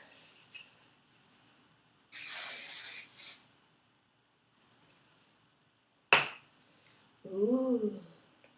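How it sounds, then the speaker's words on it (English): Hairspray from an aerosol can misted onto hair, one steady hiss about a second long, close and fairly loud, followed by fainter clicks and a short voiced sound. "hairspray."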